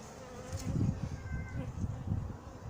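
Honeybees hum around a warré basket hive and horizontal hive, giving a low, continuous buzzing drone that swells and fades as bees fly near and past, close and fairly loud.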